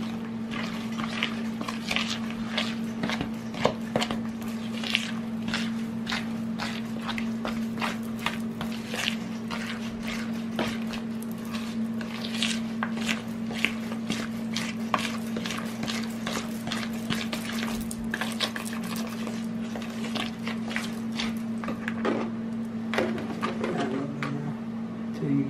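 A milk mixture being whisked in a bowl, a long steady stream of fast, busy ticking and wet clicking strokes close by over a constant low hum, with no talking.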